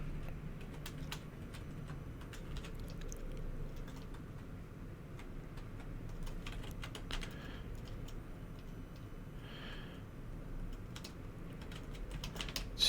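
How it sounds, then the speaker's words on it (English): Computer keyboard typing goes on throughout, quick irregular key clicks in bursts and short pauses, fairly close and steady over a faint room hum. "Wow, nice typing."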